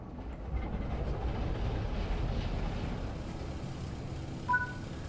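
A locomotive diesel engine in Train Sim World 6 starts up as a low rumbling turnover that settles into a steady hum, with a short higher tone sounding near the end.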